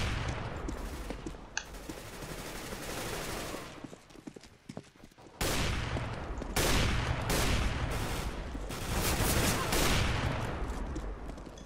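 Rapid gunfire bursts from a CS:GO deathmatch round, dense and loud, with a brief lull midway before sustained volleys resume through the end.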